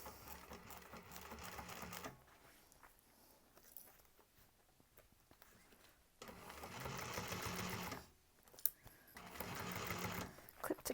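Sewing machine stitching a diaper bag, close and steady whirring bursts of rapid needle clatter separated by quiet pauses while the fabric is adjusted, with a faint voice at times.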